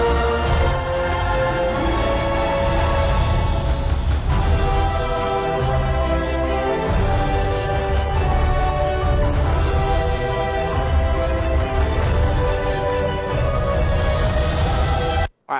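A dense, heavily overcompressed orchestral music track plays loud and continuous, with full low-end and steady swells that never let up, no voices over it.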